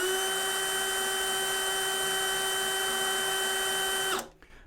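A DeWalt cordless drill on its lowest speed setting whirs at a steady high pitch for about four seconds, then winds down abruptly and stops, leaving quiet.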